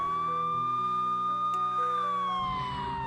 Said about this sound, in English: she hears a loud sound of a police siren